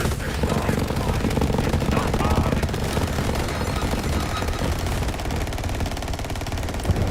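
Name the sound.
gunfire in video game Borderlands 3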